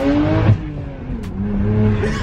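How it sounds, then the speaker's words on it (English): Engine and exhaust of a tuned BMW carrying a JB tune, heard from inside while driving, with a steady drone and a brief sharp crackle of exhaust backfire standing out near the middle. "Dude, you hear those backfires?"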